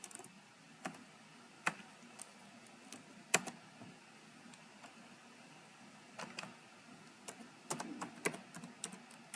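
An email address is typed on a computer keyboard in a quiet room, with soft, irregular key clicks in short bursts and a few louder taps, no voices.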